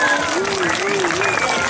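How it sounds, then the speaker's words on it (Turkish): An audience at a neighbourhood iftar gathering in Boyabat claps for Yaren after a magic trick, with steady dense applause under a voice speaking loudly over it. "Kocaman alkışlar yarana geliyor"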